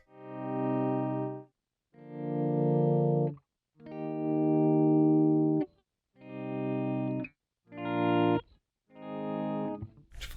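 Electric guitar chords fade in through a volume pedal on a worship pedalboard, six smooth swells rising from silence and fading, each separated by brief gaps.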